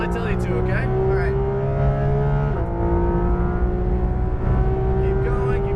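Porsche GT3 RS race car accelerating hard on a Las Vegas track, engine note climbing steadily in pitch through a gear change, loud and close from inside the car, with a driving coach talking over the engine throughout.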